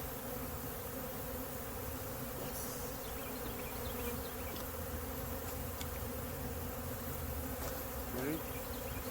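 Tree bees buzz steadily around a newly set-up hive stocked with honey frames, a dense continuous swarm drone with a few individual insects passing close.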